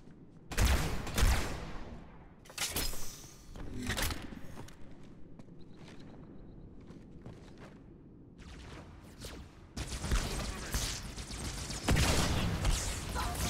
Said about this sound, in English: I just shoot until the red is gone. That's my strat with the fuel rod cannon.